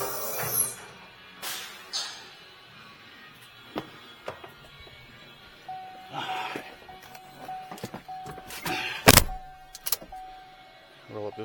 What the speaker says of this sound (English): Roll up this window so you don't hear all that noise.